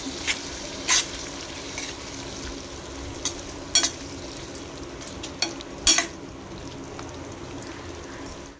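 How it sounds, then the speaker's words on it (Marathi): Cooked mutton is stir-fried in a pan for sukka mutton, with a steady sizzle throughout and periodic scraping stirs of the spoon close by. "आता त्यामध्ये आपण शिजलेलं मटण टाकूया. आता हे चांगलं परतून घेऊया."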